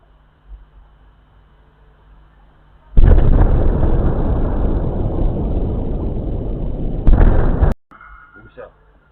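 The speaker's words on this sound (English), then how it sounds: "it sounded like there was kind of like two explosions that most likely were caused by drones" Two explosions from a drone attack on a microelectronics plant in Russia's Bryansk region: a sudden, loud blast opens a long roaring rumble, and a second sharp burst comes just before it cuts off to faint background noise.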